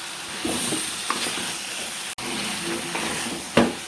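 Beef and spices are stirred and fried in a pan, producing a steady, moderate sizzle and hiss with occasional scraping stir noises and a brief dropout midway.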